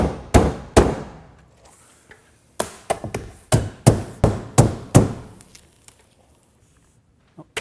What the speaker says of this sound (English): I'll place just enough cap nails to hold the HomeWrap in place